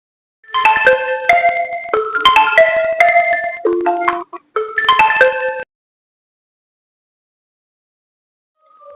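A phone's melodic ringtone plays an incoming-call tune in short repeated phrases for about five seconds, loud and close, then stops into silence.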